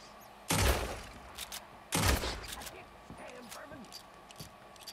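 Two sharp gunshot bursts, each trailing off with a ringing tail, go off about a second and a half apart, followed by quieter rustling and scattered clicks, with voices talking nearby.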